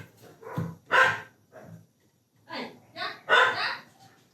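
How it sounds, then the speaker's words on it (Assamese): Dogs quarrel outside, a house dog and a stray, giving several sharp barks and yelps in irregular bursts with short pauses between them. "বাহিৰত কুকুৰৰ কাজিয়া লাগিছে আমাৰ কুকুৰটো আৰু বাহিৰৰ কুকুৰ আহিছে"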